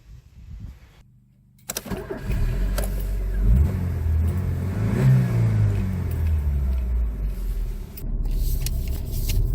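A 1993 Rover 220 GTi car engine starts up after a quiet moment, then revs and accelerates steadily, a loud close rumble that holds through the rest of the clip.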